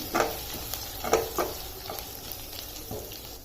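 Crushed green chillies for sabudana khichdi stirred in a hot pan, with a soft steady frying hiss and several distinct scraping spoon strokes in irregular rhythm, close up and fairly quiet.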